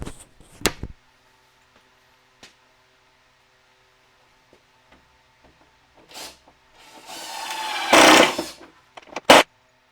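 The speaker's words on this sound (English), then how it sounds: "I'm going to go ahead and throw the screws in as well" Screws are driven into the sides of an assembled planter box, with scattered small knocks and clicks before a sustained whir of about two seconds, then a sharp final clack. The sounds are close with long near-silent gaps.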